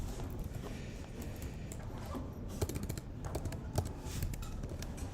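Keys clatter on a computer keyboard in quick, uneven bursts of close, soft taps, including a few firmer strikes, with no talking.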